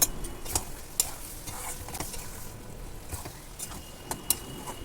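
Ghee is stirred into a bottle gourd and soybean curry: a close, steady spoon scraping through the thick mixture with a soft sizzle beneath and a few sharp clinks of utensil against pan.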